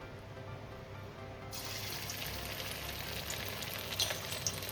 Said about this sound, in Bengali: এবার আমি দু তিন ব্যাচে এক এক করে কোপ্তাগুলোকে ভেজে তুলে নেবো